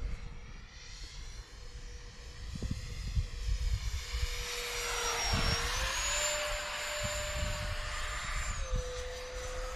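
A 64mm FMS electric ducted fan model jet, a Drake III on its maiden flight, whines steadily overhead. Its pitch swells and shifts as it passes and climbs, over outdoor wind and rumble with no talk.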